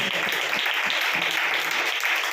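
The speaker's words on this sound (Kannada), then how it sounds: "ನಂಬುವರೆಲ್ಲರೂ ದೇವರಿಗೆ ಚಪ್ಪಾಳೆ ಹೊಡೆಯೋಣ" A church congregation claps together during a prayer sermon, producing dense, sustained, even applause that fills the room without a break.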